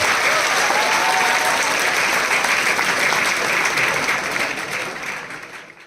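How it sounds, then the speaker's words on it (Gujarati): An audience at a Geeta Jayanti celebration by BLISS Academy in Junagadh claps hard. Dense, loud applause holds steady, then thins and fades toward the end. "પરમ આનંદ માટે એકવાર જોરદાર તાળી થઈ"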